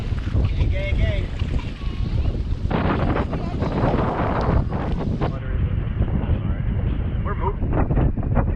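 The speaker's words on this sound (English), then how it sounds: "We got a windy cove." Wind gusts across a cove on Dale Hollow Lake, buffeting the microphone in a loud, rough roar around a houseboat, with faint voices and water movement underneath.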